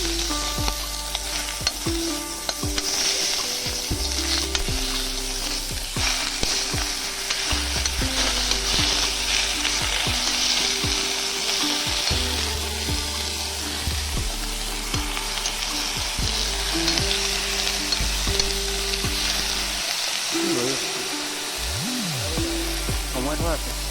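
Pork with sesame fries in a hot pan while being stirred, a continuous crackling sizzle broken by repeated scraping and clanking strokes of the utensil, loud and close throughout.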